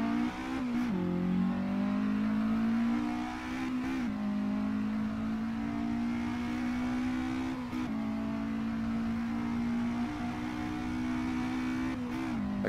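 A Porsche 718 RS 60 with a five-speed manual, driven in Assetto Corsa on the Red Bull circuit, pulls away from first gear. Its engine drones loud and steady, climbing in pitch through several quick gear changes with no talk.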